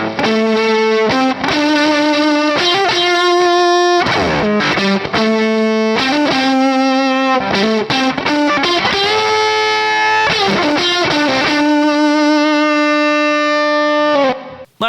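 Electric guitar through an Octavia octave fuzz pedal, bright octave-up edge, playing a riff of held and bent notes, loud and saturated, cutting off at the end.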